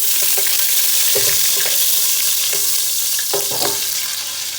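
Spices sautéing in hot oil, a loud continuous sizzle with occasional stirring scrapes and small pops, close by.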